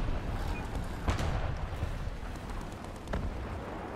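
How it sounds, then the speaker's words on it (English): A Gepard anti-aircraft gun firing in War Thunder, dense rumbling bursts of automatic cannon fire over a continuous heavy background of battle noise, with two sharper reports standing out. "Gepard is shooting at something."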